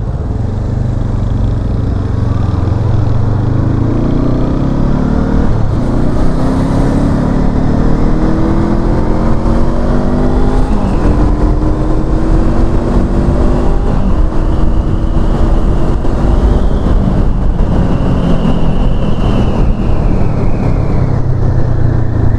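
A 2023 Honda CL500 Euro5 motorcycle accelerates on a test ride, its engine note climbing through the gears in steady rising sweeps. The engine sounds loud and close, with wind roar over it and no voices.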